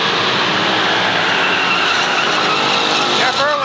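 A Limited Sportsman stock car slides sideways at Waterford Speedbowl, its loud race engine roaring amid crowd noise as the tires give a brief squeal near the end, with a commentator talking throughout.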